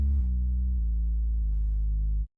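A deep synth bass preset called Bass Ghost from Pandora, set in a drill beat, plays a few sustained low notes that step in pitch, smooth and clean, before cutting off abruptly, with no other sounds.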